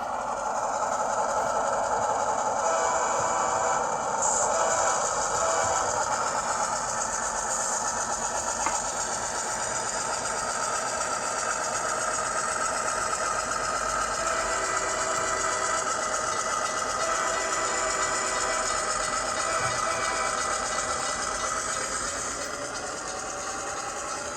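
An HO scale model railroad train runs in reverse with the brake off during switching operations, giving a steady, fairly loud motor whir and rail noise with faint scraping, continuous throughout.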